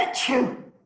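A single sneeze, close and fairly loud, bursts out sharply and then fades away within a second.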